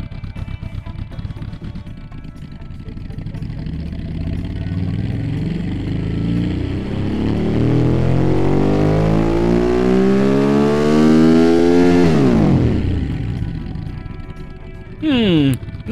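A boxer four engine in a car engine simulation game revs steadily upward, the tone climbing and thickening before dropping sharply off, followed by a brief higher burst; loud and close, alone without talking.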